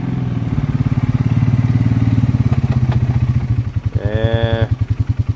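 An off-road vehicle rides along a trail, its engine chugging in a steady close, loud pulsing rhythm, with a brief rev and a few clattering knocks near the end.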